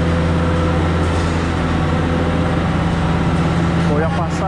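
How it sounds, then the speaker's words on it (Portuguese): A cement truck's engine rumbles low and steady amid dense New York City street traffic, a thick continuous noise bed with a brief higher sound near the end. "o caminhão de cimento ali"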